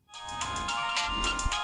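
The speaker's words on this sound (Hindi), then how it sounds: "किसका फोन आ गया?" A phone ringtone chimes in a bright, repeating electronic melody, fairly quiet, with no voices over it.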